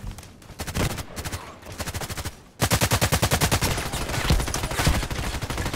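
SVU-AS rifle fire in the shooter game Contract Wars, with fast repeated shots in tight bursts. A short, lighter volley is followed by a louder, sustained string of rapid cracks that fills the clip.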